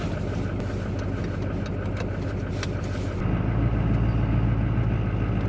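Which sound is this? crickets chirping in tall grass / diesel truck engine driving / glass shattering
diesel truck engine driving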